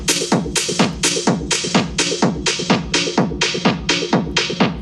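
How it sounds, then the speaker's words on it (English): Drum loop playing a steady repeating beat, its top end progressively filtered away while reverb is added, so the hits smear into a washy tail; loud and alone with no talking. "As it filters down, reverb gets added."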